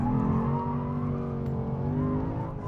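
A 2021 Lexus RC F Track Edition corners on a race track, its engine droning loud and steady from inside the cabin with a rising, wavering pitch as throttle is applied.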